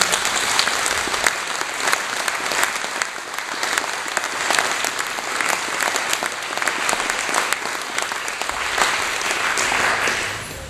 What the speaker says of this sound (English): Can we just give a round of applause to Jessica?